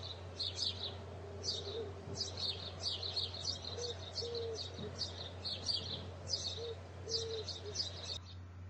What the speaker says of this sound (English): It is the sound of birds.